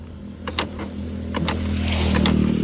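A vehicle engine cranks but fails to catch, giving a steady whirring drone that builds slightly over a few seconds, with a few light clicks and no voices.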